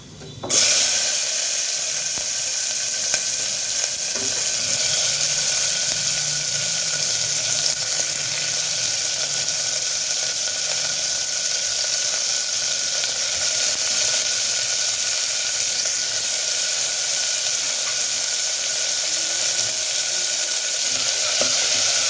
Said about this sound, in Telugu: వేగుతున్నాయి కదా ఇప్పుడు ఉల్లిపాయలు